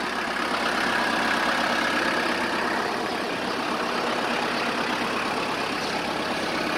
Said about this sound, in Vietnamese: cùng kiểm tra thử tiếng động cơ anh em